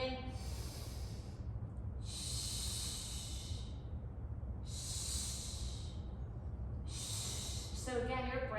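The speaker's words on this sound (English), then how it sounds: "you're going to do a series of mini exhales to help with your balance" Short, forceful breath exhales puff out in a steady series of four hissing bursts, close and clear, as someone holds a braced hollow hold core position with feet on the floor in flat shoes.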